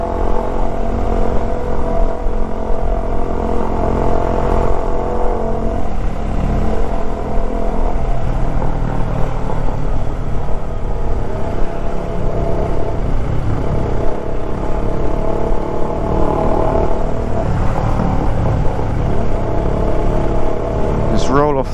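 A motorcycle rides along steadily during CBT rider training, its engine drone and wind rumble loud and constant throughout, with a voice talking over it.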